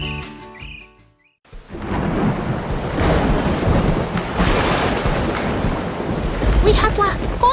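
A deep, rolling rumble of thunder swells and lingers, loud and close, with a steady wash of rain or wind underneath.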